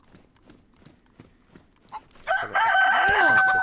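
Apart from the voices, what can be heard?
rooster crowing in the video game DayZ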